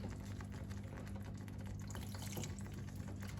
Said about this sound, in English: Now we'll add more water to it